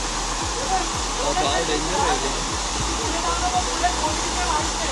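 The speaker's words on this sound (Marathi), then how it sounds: "काय धबधब्याचा ना कोंडी धबधबा" Kundi waterfall's rushing water gives a steady, loud broadband roar that runs unbroken throughout, with low thumps scattered through it.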